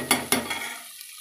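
Potato curry for puri is stirred in a pan, with two quick scraping strokes followed by a soft fading sizzle, heard up close.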